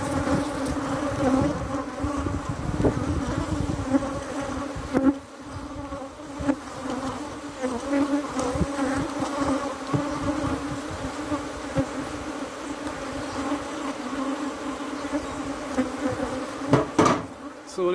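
Bees buzz thickly around an open beehive, a close, continuous droning hum that swells and wavers, with occasional knocks and clicks of hive work mixed in.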